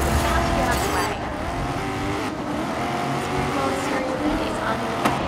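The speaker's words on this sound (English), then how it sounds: "Those huge engine noises just" Race car engines roar together at the start of a race in the video game GRID 2019, a dense continuous engine drone with a commentator's voice talking over it.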